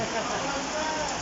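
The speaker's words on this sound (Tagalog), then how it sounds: "So inaabot tayo ng ulan." Steady, dense rain hiss falls close by, an even wash of drops on surfaces with no pauses or other sounds.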